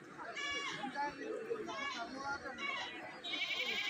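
Goats tied on vehicles at a livestock market bleat repeatedly nearby, several overlapping calls rising above a busy crowd of voices and children chattering.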